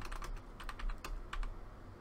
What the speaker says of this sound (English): If I keep weight on the keyboard, it doesn't squeak.